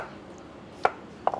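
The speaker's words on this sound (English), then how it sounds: "Cutting shallots into rounds." A knife slicing shallots into rounds on a cutting board gives a few crisp, close chopping taps, one then a quick pair.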